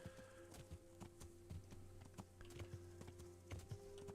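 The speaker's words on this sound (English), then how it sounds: "There goes Speed Pebble. She's a horsey on hooves." Horse hooves clip-clopping at a steady gallop in the medieval game Kingdom Come: Deliverance, a quick rhythmic run of hoof thuds over a steady tonal game hum, with no talk.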